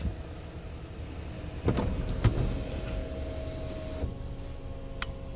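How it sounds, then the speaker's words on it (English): A sunroof motor in a 2021 Kia K5 GT-Line hums steadily inside the quiet cabin, with a couple of faint clicks as the panel moves and a soft thunk near the end. "And then your controls for your sunroof."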